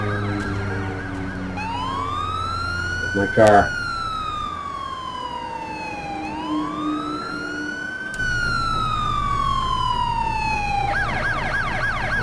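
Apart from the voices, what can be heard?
police car sirens during a chase in the video game Driver San Francisco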